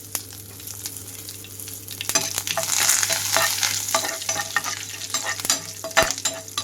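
Curry leaves and chopped dried red chillies sizzle steadily in hot tempering oil, with a continuous crackling fry and a few sharper pops and stirring scrapes building toward the end; no talk.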